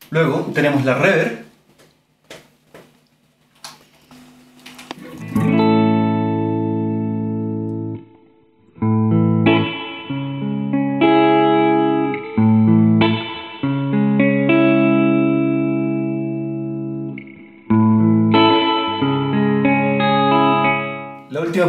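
After a brief stretch of speech, a guitar played through a Fender Hot Rod DeVille amp with reverb rings out in clean, sustained chords and notes in several phrases with short pauses between them.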